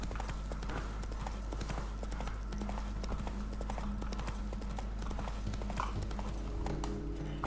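Horse hooves clip-clopping at a steady riding pace in the video game The Witcher 3, a continuous rhythmic beat under game ambience and a low drone, with faint speech.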